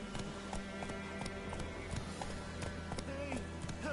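Roach the horse gallops in The Witcher video game, a quick steady run of clip-clopping hoofbeats close by, with voices speaking over it near the end.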